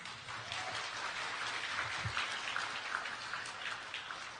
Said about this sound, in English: So please, a round of applause for Houston Arts Alliance.